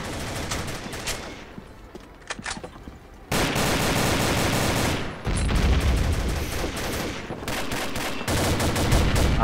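Gunfire in a competitive online shooter match, rapid bursts and repeated shots, loud and dense, with a quieter stretch early on before heavy continuous firing fills the rest.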